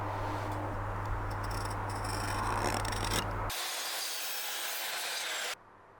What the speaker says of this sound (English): The saw I use is a Skill with a 254mm saw blade.